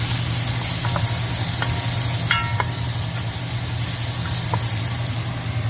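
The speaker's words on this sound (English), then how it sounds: "Then I'll start cooking and browning those onions with garlic." Onions browning in a pan for quesabirria give a steady broadband sizzle throughout, with a low constant hum beneath and a few faint clicks of a wooden spoon stirring.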